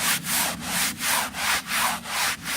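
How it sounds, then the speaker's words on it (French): A textile brush scrubs a car floor mat in steady back-and-forth strokes, six or so rhythmic rasping sweeps, close and even, with no talking. "grâce à une brosse textile, comme celle-ci, vous allez frotter"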